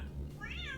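A cat meows once, a rising and falling call heard over a steady low game-world hum, close and fairly clear, in the Star Citizen-style space game setting.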